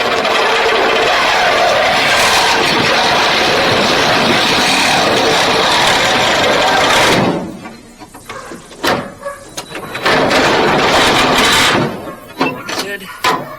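A power tool cuts into the steel heater channel of a VW Beetle during a heater channel replacement. It makes a loud, continuous harsh whine for about seven seconds, pauses with scattered clanks, then cuts again in a shorter second burst.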